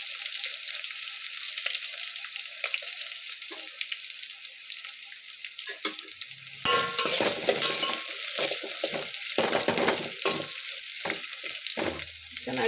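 Onions frying in a pan for a simple pulao give a steady close sizzle, then a louder, busier hiss and crackle with stirring scrapes after they are tossed about midway.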